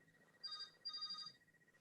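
A phone ringing during a talk, two short electronic ring bursts in quick succession, faint and thin against a quiet room.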